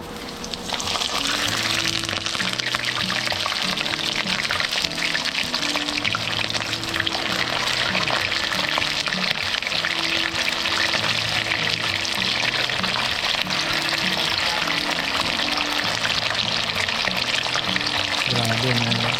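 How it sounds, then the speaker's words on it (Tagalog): Tortillos frying in hot oil give off a continuous, even hiss and crackle that runs throughout, steady and close, with a faint melody in the background. "Ayan, piprituhin lang po natin"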